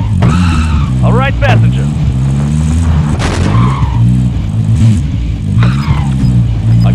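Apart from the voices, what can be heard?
vehicle driving in Call of Duty Warzone video game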